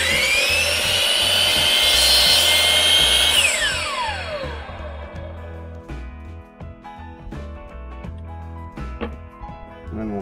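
A laser-guided power saw cuts through new deck boards, its loud motor whine holding steady for about three seconds before spinning down, followed by quieter knocks and handling of the boards.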